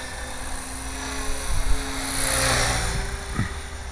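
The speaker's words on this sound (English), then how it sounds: "It was actually very easy flying inverted because of the stability of the helicopter" A Gaui RC helicopter flies inverted, its rotor whine steady and fairly close, swelling briefly in a louder rush partway through over light outdoor background noise.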